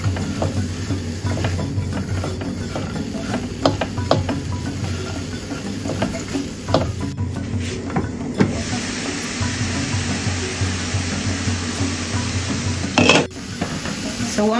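Cauliflower and broccoli rice cooking in a pan, a continuous hiss and sizzle with intermittent scraping stirs and clinks throughout, fairly close and loud.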